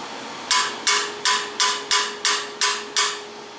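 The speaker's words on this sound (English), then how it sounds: "Always smack them with a hammer to seat them in there" Eight sharp metallic hammer taps on engine valve retainers of a 1974 Ford F100, in a steady rhythm, each ringing briefly before the next, close and fairly loud with no talking.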